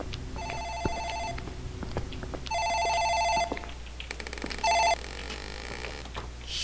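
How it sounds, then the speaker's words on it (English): Office telephone in a video game rings in three electronic bursts, the second and third louder and closer, over a low steady room hum with no talk. "Phone in the office ringing."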